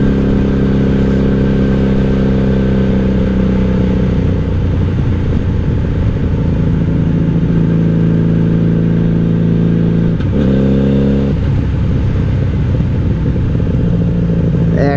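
A 1997 Honda Magna VF750C motorcycle with a Vance and Hines exhaust heard from the rider's seat, a loud, steady engine drone with a rev change and gear shift midway, wind rush throughout.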